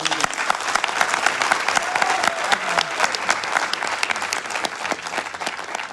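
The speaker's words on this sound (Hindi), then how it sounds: "तो सबके लिए जबरदस्त तालियां।" A crowd breaks into loud, steady applause at a gathering, many hands clapping densely and without pause for the full six seconds, close and filling the space.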